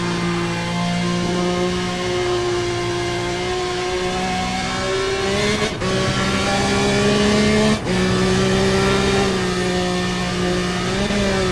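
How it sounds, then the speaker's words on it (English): A BMW race car engine in Need for Speed ProStreet, a loud, sustained drone that climbs in pitch through the gears, with brief dips at shifts and occasional rises in revving. "My engine is too loud."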